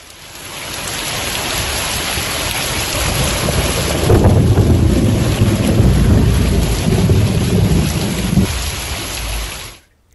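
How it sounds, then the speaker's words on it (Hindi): Heavy monsoon rain pours steadily during a storm in Bihar, a loud dense hiss with a deep rumble swelling midway like thunder or wind gusts, continuous and close until it cuts off at the end. "रात से ही लगातार बारिश हो रही है।"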